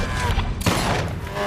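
A single gunshot rings out in the film Fast and Furious 6, a sharp, loud crack that cuts through a dense, noisy action mix with rumbling low background.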